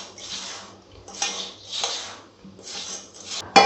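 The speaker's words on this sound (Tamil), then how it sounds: "எல்லாத்தையும் ஃபஸ்ட்டு ஒன்றா கையில் வந்து மிக்ஸ் பண்ணி விட்டுக்கோங்க." Instant dosa batter ingredients and salt are mixed by hand in a bowl, giving soft wet squelching and scraping strokes in several bursts, with a metallic clink at the end.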